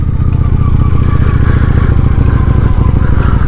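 A Honda Shadow 750 ACE motorcycle under way, its engine a loud, steady low pulsing thrum close by, with wind noise and no break in the rhythm.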